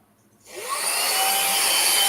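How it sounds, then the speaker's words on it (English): A small handheld vacuum cleaner switches on after a brief quiet moment and settles into a loud, steady high-pitched whine that runs to the end. "so I got this little vacuum cleaner, and so when you turn it on, is it on?"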